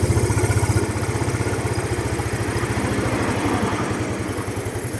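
A motorcycle engine runs steadily at fast, even revs, a loud continuous buzzing rumble with no voices.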